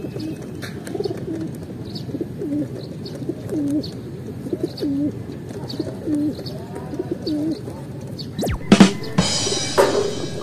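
A banded racing pigeon coos in a steady series of soft, low, rolling calls from a nearby cage, repeated about every second, with a brief sharp clatter near the end.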